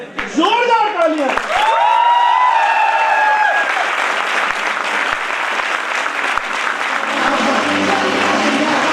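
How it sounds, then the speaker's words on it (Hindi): Loud, dense applause from a large audience at a motivational training session, sustained for several seconds with a voice calling out over the opening clapping. "जोरदार तालियां"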